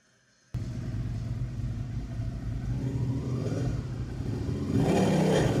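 A motorcycle engine runs indoors inside a house, starting abruptly after a moment of quiet and holding a steady close rumble that swells louder toward the end.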